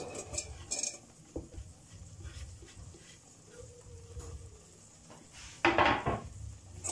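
Ham is dropped into a pan of grated onion already cooking, with a few utensil clatters and knocks against the pan, a soft fry underneath and a louder scraping burst near the end; no talk.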